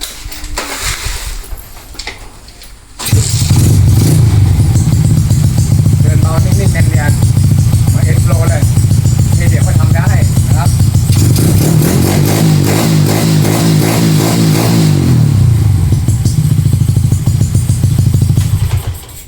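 A motorcycle engine starts and revs loudly up close, rising and falling in repeated throttle bursts with a rough, rattling idle between.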